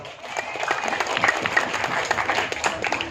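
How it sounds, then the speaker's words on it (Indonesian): Applause for the village head at a village gathering, a steady wash of clapping from a crowd that carries on evenly throughout, with faint voices mixed in. "Tepuk tangan buat Pak Lurah"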